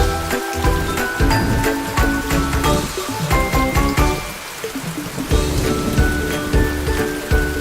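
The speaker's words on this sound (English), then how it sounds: "R is for rain." Cartoon rain sound effect: a dense, loud patter of falling raindrops splashing on a surface, steady and continuous with scattered brighter drips, heard alone without speech.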